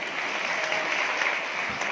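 Applause from an audience at an International Women's Day event, a steady uniform patter of many hands clapping without a break.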